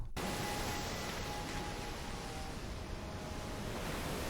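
Ocean waves in the World War II shooter Medal of Honor: Allied Assault make a continuous broad wash of surf, fairly quiet and even, with no voices over it.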